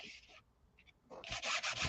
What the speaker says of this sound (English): And sanding it, yes, it's taking some of it off,